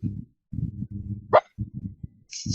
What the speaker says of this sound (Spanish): si están escuchando un perrito ladrar, está diciendo amén.